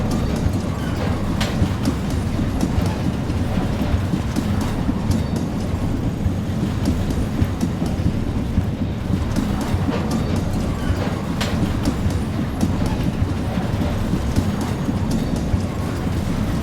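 Train rumbling steadily in a multiplayer train game, a loud continuous roll with faint clickety-clack that holds even and unbroken throughout.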